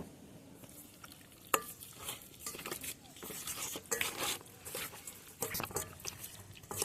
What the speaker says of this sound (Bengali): মাংসের সঙ্গে মশলাগুলো এখন মাখিয়ে নেব